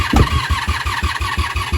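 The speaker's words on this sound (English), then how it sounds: "All right, we have gas in the carbs. I think I ran it dry last time. We're gonna fire." A 1987 Honda Super Magna motorcycle engine cranks over on the starter in a quick rhythmic chug of about a dozen even pulses, close and loud, with one early stronger firing burst.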